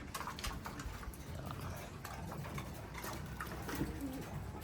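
Racing pigeons coo on a rooftop, several soft repeated coos rising over steady outdoor background noise, moderately close with no voices.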